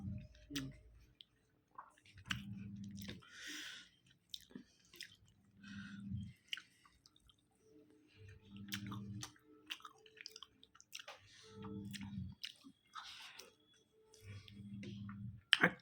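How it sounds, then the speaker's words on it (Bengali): Close, quiet chewing of hot rice comes in repeated bursts of soft, moist mastication separated by short pauses, with small clicks and squishes between them. "গরম ভাত খেতে খুব ভালো লাগে।"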